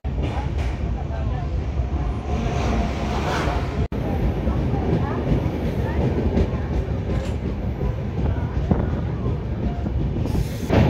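Passenger train rolling on rails near Khurda Road in India, a steady loud rumble with rhythmic wheel clatter and occasional squeals throughout, heard from on board.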